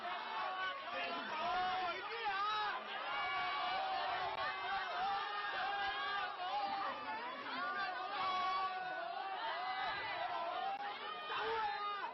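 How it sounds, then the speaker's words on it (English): Large crowd at a Hong Kong street protest, a dense unbroken babble of many voices with shouts rising out of it, loud and close throughout. "Yeah, it's a large crowd"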